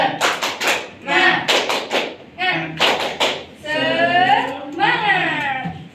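A classroom does the rhythmic Indonesian tepuk semangat spirit clap, playing sharp patterned bursts of claps that alternate with group chanting and a speaking voice.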